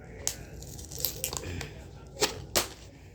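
Scissors snip and tear at plastic and cardboard packaging around a toy Nerf gun, with several crisp cuts and crinkles at close range and quiet background voices.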